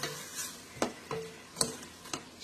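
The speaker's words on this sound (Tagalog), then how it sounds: "So, pinafry natin ang ating shrimp" Shrimp frying in a pan with sautéed onion, garlic and tomato, a faint sizzle under several sharp spatula scrapes and taps, close up.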